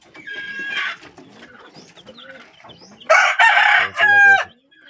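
A batch of newly bought chicks cheeping: close, shrill peeps in quick runs that swell into loud, dense chirping toward the end, with no voices.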